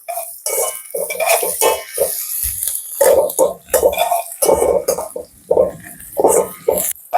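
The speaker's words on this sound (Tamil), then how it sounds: "பச்சை மிளகாய் கருவேப்பமிலை இலை இவ்வளோத்தையும் போட்டு படிவாக வதக்கி விடுவோம்" Onions, green chillies and curry leaves are stir-fried for chicken kothu, with loud close clattering of a metal utensil against a pan in uneven bursts and short pauses between them.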